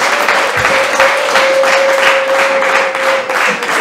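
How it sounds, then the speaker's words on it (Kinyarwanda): Loud, steady applause from a congregation at a church wedding ceremony, with dense clapping that holds at an even level over a sustained tone in the background, and no voices rising above it. "Amashyi menshi cyane rwose"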